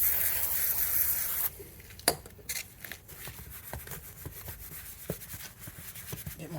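A brush scrubs gunk off a 1979 engine starter from an Oldsmobile 403 V8 teardown in a run of quiet, uneven rubbing strokes, with scattered sharp scrapes and taps nearby.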